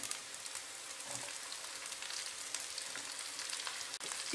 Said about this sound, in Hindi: लहसुन के भुनते ही हम इसमें प्याज डाल देंगे।